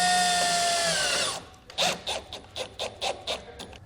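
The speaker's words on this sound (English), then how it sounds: "I'm going to take the included self-tapping tech screw and drill them into the core support" A power drill drives self-tapping tech screws into a car's core support: a steady high motor whine runs for over a second, then stops, followed by a series of short sharp bursts as the screw bites in.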